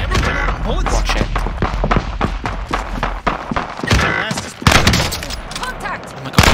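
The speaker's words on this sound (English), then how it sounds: "Okay, shooting back now, they're shooting back" Rapid gunfire from a light machine gun and other weapons in a Call of Duty: Warzone battle, with dense overlapping bursts and thuds throughout and a louder volley near the end, while a player talks over it.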